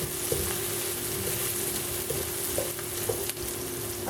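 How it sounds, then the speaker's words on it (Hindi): Green chillies fry in hot oil with asafoetida for a Memoni potato and black chickpea chaat, giving a close, constant crackling sizzle broken by small pops and light utensil taps. "हरी मिर्चें फ्राई करेंगे।"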